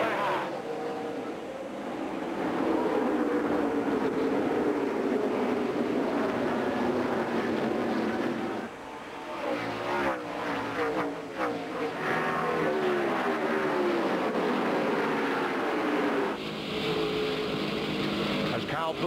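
Race cars roar in a dense pack taking the green flag at the 2003 Kroger 200 at IRP, a loud, sustained engine drone with rising and falling pitch, under continuous commentator talk.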